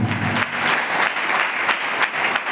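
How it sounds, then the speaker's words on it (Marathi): A crowd at a Christian prayer gathering claps in a dense, continuous burst of applause, loud and close, lasting only a couple of seconds. "अरे टाळी मारा"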